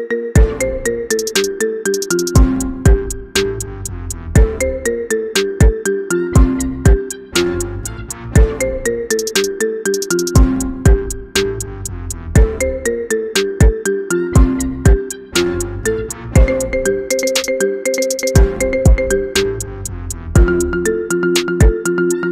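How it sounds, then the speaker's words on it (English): A bright marimba remix of a song plays as a ringtone, loudly and continuously, its plucked notes repeating in a bouncy looping pattern. "Get this cool ringtone for your phone now."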